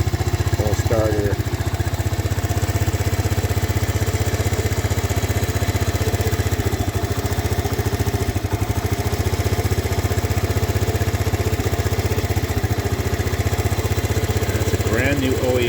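A Honda ATC70 three-wheeler idles with the choke fully on, its small single-cylinder engine putting out a steady, close buzzing chug for the whole stretch.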